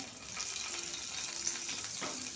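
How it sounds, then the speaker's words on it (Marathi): Curry leaves crackling and sizzling in a little hot oil in a kadai, a steady close frying hiss with no talk, for a Marathi spicy-sweet corn chivda tempering. "मी कढईमध्ये थोडंसं तेल घेतलं आहे त्यामध्ये टाकते कढीपत्ता"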